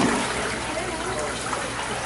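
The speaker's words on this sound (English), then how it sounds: "put it in the water and shake it back and forth" Water sloshes and swirls as a sifter pan holding dirt is shaken back and forth in a water trough at a cave attraction, a close, continuous splashing wash with a voice briefly in the background.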